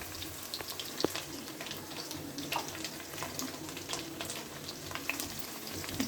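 Bottle gourd and brinjal pieces fry for sambar in a pan, a soft steady sizzle with occasional stirring clicks and scrapes, fairly quiet and close.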